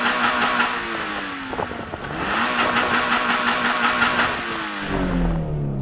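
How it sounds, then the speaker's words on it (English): A Toyota GR86 engine revs hard several times, close and loud, its pitch climbing and falling with each blip of the throttle and settling lower near the end. No voices. "I'm going to rev up this car and see if it sounds better than that Supra"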